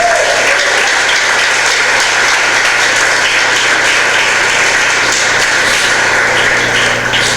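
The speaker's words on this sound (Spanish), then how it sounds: "Un aplauso al Señor por esos predicadores." Loud congregation applause in a church service honoring preachers, a continuous dense clapping wash that stays level for several seconds.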